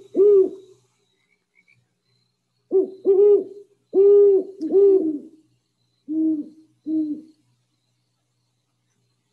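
A great horned owl pair duets with deep hoots, the male's lower and the female's higher, in spaced groups of two or three notes across several seconds, loud and close against silence.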